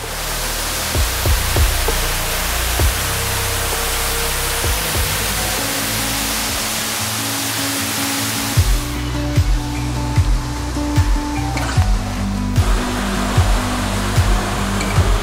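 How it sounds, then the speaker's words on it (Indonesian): The Sijambe waterfall roars as a loud, steady wash of broadband noise, a gentle flow that people bathe in, with the sound shifting slightly partway through. "Ujung dari perjalanan dari Etiviet ini adalah air terjun Senjambe."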